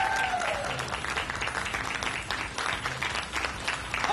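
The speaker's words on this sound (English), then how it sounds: "please, the biggest round of applause of all" A convention audience at Dragon Con 2013 gives a sustained round of applause, dense steady clapping from a large crowd filling the whole stretch without pause.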